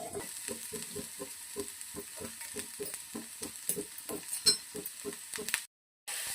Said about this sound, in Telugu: పచ్చిమిర్చి మరియు ఆనియన్ ముక్కలను ఇలా గోల్డెన్ బ్రౌన్ కలర్ వచ్చేదాకా వేయించుకోవాలి.